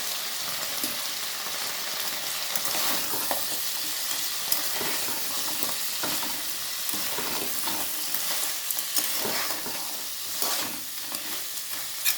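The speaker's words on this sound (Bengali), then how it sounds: "আমি কাঁকড়াগুলোকে বেশ ভালো করে ভেজে নেবো" Crabs frying in a pan for a spicy crab curry, giving a continuous bright hiss and crackle of hot oil with occasional stirring scrapes, steady and fairly close, no talking.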